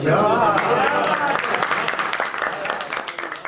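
An audience at a Punjabi mushaira breaks into applause: dense, crowded clapping starts strong and gradually thins out, with a voice speaking over it at the start.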